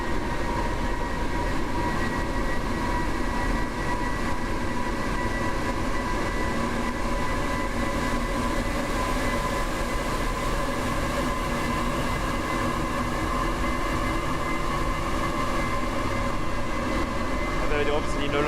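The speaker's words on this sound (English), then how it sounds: "It's a really nice train." A train runs in Train Sim World 4, a continuous loud rumble with a steady engine or motor drone and rail noise that holds level throughout, with a voice talking intermittently over it.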